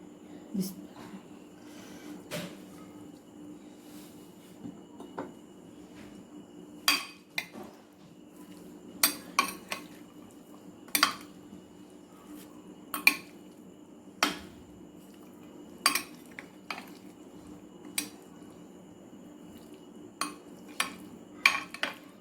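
Chana chaat tossed in a bowl with onion, cucumber, cabbage, tomato and green chilli, giving a run of sharp spoon-on-bowl clinks and scrapes at irregular intervals over a low steady hum.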